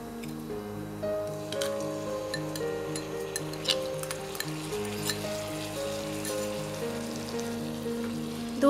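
Yogurt goes into a pan of frying spices for a paneer curry, bringing a steady sizzle with stirring scrapes and a few soft clinks, fairly quiet and close, with no talk.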